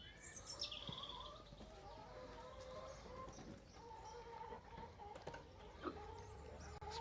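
Chickens cluck and chirp softly in the open, a scattered, quiet run of short calls against faint outdoor background.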